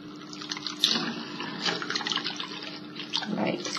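Running tap water splashes while conditioner is rinsed out of hair extensions, a steady close stream with uneven bursts as the hair is worked under it.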